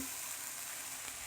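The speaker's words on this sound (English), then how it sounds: "Continue frying and stirring it." Steady, close sizzling of rice frying in a pan for prawn pulao, a constant hiss with faint scraping of stirring, no voices.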